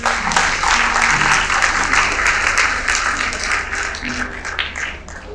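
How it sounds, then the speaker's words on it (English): Loud, dense applause at a school assembly for a student's birthday, many hands clapping close by with some scattered sharper claps and faint voices, gradually thinning toward the end. "Round of applause."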